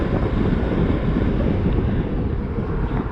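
Strong wind on a bridge roars steadily and loudly against the microphone during a motorcycle ride, a dense low rumble with no pauses.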